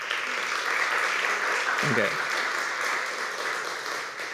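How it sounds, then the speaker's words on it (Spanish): An audience applauds in a hall at a literary gathering of writers. The clapping is dense and steady from start to finish, and a voice briefly says a single word partway through. "Brindémosles un aplauso a esta sala."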